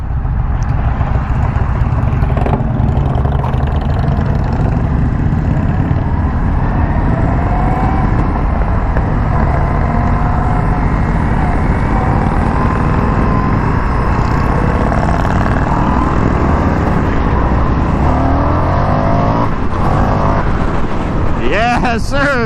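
A 2021 Indian FTR1200 motorcycle engine drones loudly on a ride, mixed with heavy wind rush, and climbs in a rising rev near the end.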